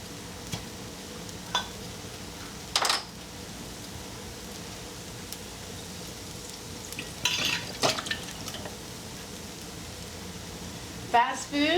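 Chicken patties cooking on a cast iron griddle at a low setting give off a soft, steady hiss, broken by a few brief clatters and scrapes.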